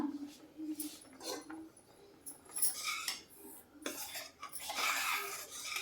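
A spoon clinks and scrapes against a pan as cashew powder is stirred into carrot kheer, with irregular metallic taps and rubbing close up, mixed with a quieter background voice.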